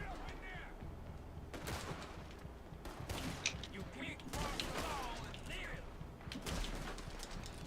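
Gunshots in the Red Dead Online game as electric street lights are shot out, several sharp reports spread through the stretch over a busy background of other game sounds.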